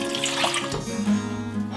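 A cup of water pours into a cooking pot with a steady, close splashing rush that gains a lower, fuller tone toward the end as the pour settles.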